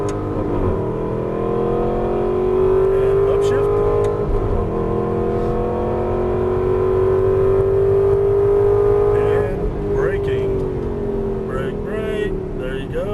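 An Aston Martin V8 Vantage accelerates on a race track, heard from inside the car: a loud, close engine note climbs steadily in pitch, then drops sharply at an upshift around nine and a half seconds before building again.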